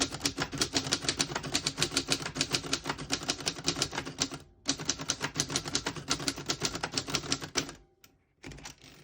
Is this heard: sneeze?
no